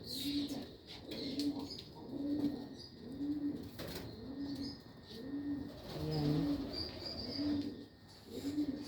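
Jacobin pigeons in a cage give steady, evenly spaced low coos, nearly a dozen in a row, close and clear with faint chirps and a brief wing flutter mixed in.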